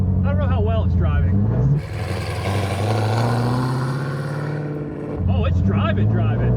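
Dodge Demon converted to a manual transmission drives off, engine rising in pitch through a few seconds of acceleration, loud and close, with people talking before and after.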